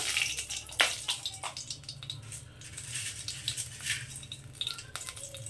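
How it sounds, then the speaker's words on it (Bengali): Dried red chillies and a bay leaf fry in hot oil, giving a close, steady sizzle scattered with sharp crackles and pops. "তেল গরম হয়ে গেছে দিয়ে দিচ্ছি দুটো শুকনো লঙ্কা"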